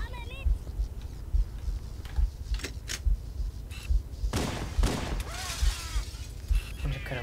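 Gunfire in Halo, with repeated sharp shots at an irregular beat, heavy impacts and bursts in a busy game mix, while someone talks over the action.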